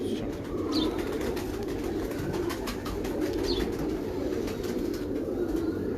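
Sialkot pigeons coo softly against a constant rushing background noise, with occasional faint chirps rising above it.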